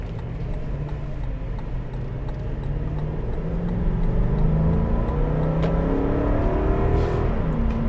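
A 2021 Toyota Land Cruiser's V8 engine rumbles steadily from inside the cabin, building slightly in intensity as it accelerates with a low, smooth drone and no voices.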